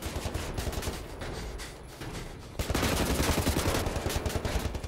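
Dual-wielded automatic gunfire in the shooter Wolfenstein: The New Order, a dense continuous stream of rapid shots, loud and close, swelling louder in the second half over chaotic game noise.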